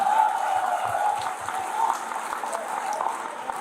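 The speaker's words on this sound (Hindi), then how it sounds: "जोरदार तालियां" A crowd of students at a coaching-institute meetup applauds steadily, a dense clatter of clapping hands that carries on throughout without pause.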